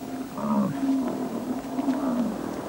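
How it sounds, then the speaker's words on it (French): Coyotes near bison on the open plains, giving whining, snarling yowls in short bursts over a low background rumble, moderately close. "Les coyotes semblent tout à coup s'énerver."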